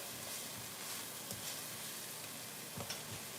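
Beef and egg noodles with greens sautéing in a pan over a turned-down burner, giving a steady, soft, quiet sizzle with faint stirring clicks and no talk.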